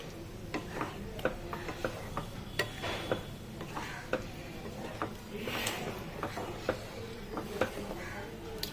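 Butter being stirred into a masala for paneer butter masala, giving soft repeated ticking and scraping taps of a spoon against the pan at an irregular rhythm, close and fairly quiet.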